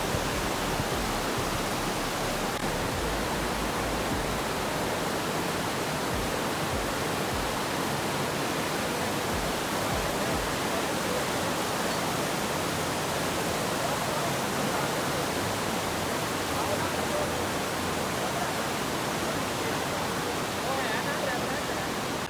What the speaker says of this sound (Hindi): और इस दरिया की आवाज़ दुनिया की किसी भी मौसीकी से बढ़कर मधुर है। ज़रा सुनिए।